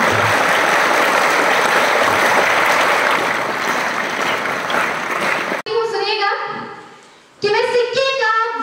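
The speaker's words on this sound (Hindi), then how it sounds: "जोरदार ताली से स्वागत कीजिए" Audience applause at a school event welcoming a former student back as a guest, a dense burst of clapping that fills the first half and then gives way to someone speaking.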